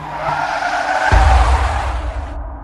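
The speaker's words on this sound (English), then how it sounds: "Jonathan suddenly flinched to his wheels skid on the snowy, slippery road" Car tires skid on a snowy, slippery road in a long hiss that ends in a heavy low thump, then a rumbling slide that fades out.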